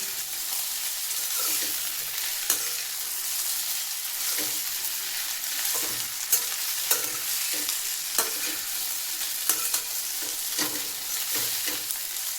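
A spoon stirs chopped dhokla into sizzling mixed vegetables in a pan, with soft repeated scraping strokes over a steady frying hiss.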